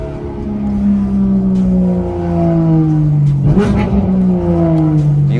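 A sports car engine revs hard through a performance race exhaust, loud and close, with rising and falling pitch sweeps, a sharp blip near the middle and a deep burbling rumble.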